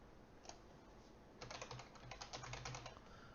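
Quiet computer keyboard typing, one isolated keystroke followed after a pause by a quick burst of rapid, close, crisp key clicks.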